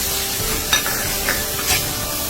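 Ginger and garlic paste fries with ground spices and salt in a pan, a steady close sizzle with a few soft scrapes of stirring, no voices.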